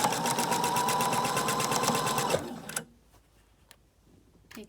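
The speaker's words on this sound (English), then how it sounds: "we're going to sew this seam with a straight stitch at about a 1/2 inch seam allowance" Sewing machine stitching a straight-stitch seam on a dress, a fast close mechanical whir with rapid rhythmic ticking for over two seconds, then stopping, followed by quiet handling clicks.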